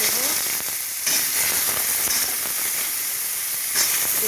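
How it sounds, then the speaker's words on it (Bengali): Eggplant frying in a pan at home while cooking shukto, a steady close sizzling and hissing of oil that continues throughout with small pops and brief swells. "বেগুনটা আমি ভেজে নিচ্ছি।"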